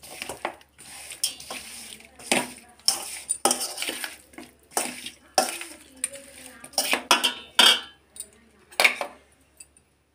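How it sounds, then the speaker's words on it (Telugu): Ginger garlic paste is stirred into raw chicken in a metal vessel for fried chicken curry, producing scattered clinks and scraping strokes with brief pauses between them. "దీంట్లోనే అల్లం వెల్లుల్లి పేస్ట్ 1 టేబుల్ స్పూన్ వేసుకుందాం. వేసుకుని ఒకసారి బాగా కలిపేసుకుందాం."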